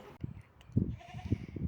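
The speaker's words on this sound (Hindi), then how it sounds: "बकरी आगे से मुझे डरा रही थी, छोटा सा बच्चा, वो आगे से उछल उछल के मुझे डरा रहा है।" A small young goat bleats in a village near New Murree, Patriata, giving a few short, fairly close calls with brief gaps between them.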